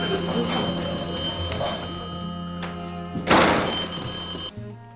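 A telephone rings in an indoor scene: a steady electronic ring sounds close, broken by a thump, then stops abruptly.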